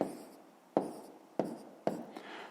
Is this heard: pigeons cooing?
no